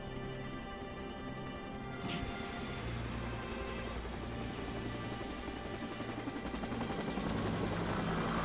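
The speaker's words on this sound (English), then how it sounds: "Chopper's coming in!" Helicopter in the Resident Evil 3: Nemesis video game coming in to land, a steady low rotor and engine drone that builds louder over several seconds, with dense game music or effects layered beneath it.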